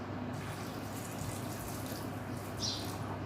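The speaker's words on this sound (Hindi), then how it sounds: "फालसे के अंदर पानी डालना है" Water pours steadily from a tap onto phalsa berries in a kitchen while making phalsa sharbat, a continuous splashing rush with no talk.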